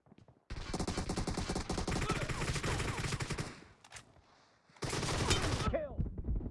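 Shotgun fire in the video game PUBG Arena comes as loud, rapid bursts of repeated blasts, first a long volley, then a brief lull, then another burst, with a voice briefly heard.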